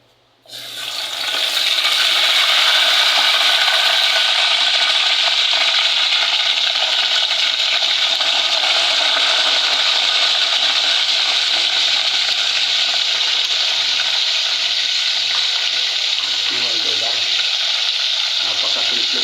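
Yellowpin fish tail dropped into hot oil in a pan, a loud, steady sizzle that bursts in at once and holds evenly throughout with faint bubbling crackle.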